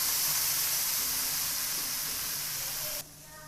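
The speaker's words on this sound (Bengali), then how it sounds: "এখন সবজিগুলো ভেজে নেব খুব সহজে রান্না করা যায়" Vegetables frying in a pan with ginger give a loud, steady hiss and sizzle that cuts off abruptly near the end, leaving only quiet background.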